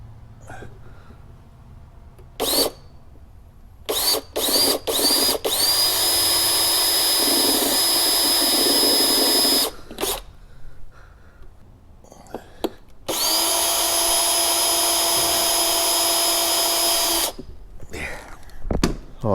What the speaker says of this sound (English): Now I'm going to take the smallest drill bit I have and put starter holes for the screws.